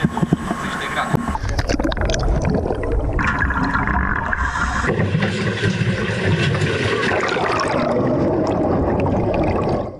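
A helicopter crash training simulator plunges into a pool of water and rolls over. A loud splash is followed by turbulent churning and gurgling water, with a mechanical whir partway through, under some background voices.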